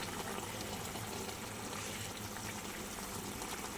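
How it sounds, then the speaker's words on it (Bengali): A pot of fish and aubergine curry with tilapia boils steadily, giving a dense, continuous bubbling hiss at even loudness throughout, with no voices. "দেখো বন্ধুরা বেশ সুন্দরভাবে ফুটে গেছে"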